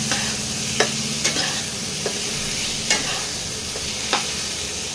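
Eggplant pieces seasoned with a little turmeric and salt sizzle steadily in a pan, with several sharp clinks of a spatula stirring and scraping through the constant hiss.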